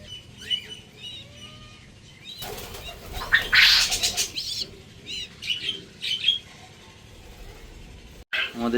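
Caged diamond doves chirp and call close by, with a burst of wing flapping in the middle and several shorter calls afterward.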